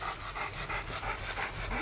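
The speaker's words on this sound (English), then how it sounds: "There's that dog in there." A hunting dog pants in quick, steady breaths close by during a Florida hog hunt, the rhythm continuing for the full stretch with no talk over it.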